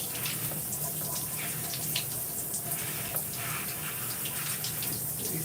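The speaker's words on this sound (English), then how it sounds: "Spending time just rinsing out my hair." Steady stream of tap water running while hair is rinsed, a continuous close wash of splashing noise with no talking over it.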